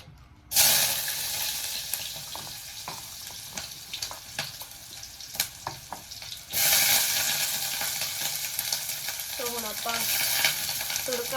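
Tadka (tempering) sizzling loudly in a pan for Maggi noodles: a steady bright hiss with occasional stirring clicks and scrapes. It starts after a brief quiet moment and surges again midway, with no talking.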